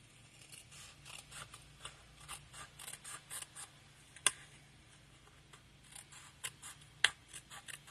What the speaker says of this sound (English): I'm just going to use my snips to give this a little trim.